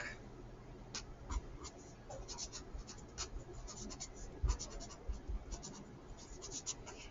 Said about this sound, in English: I'm going to write here how I checked my work.